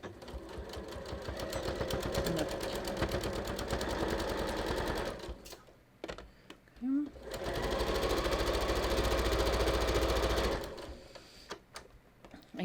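A sewing machine stitches a non-stretch dress form cover in two long, rapid whirring runs separated by a brief pause, close and loud, with a voice speaking over parts of it.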